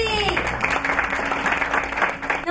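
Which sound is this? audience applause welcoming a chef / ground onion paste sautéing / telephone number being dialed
audience applause welcoming a chef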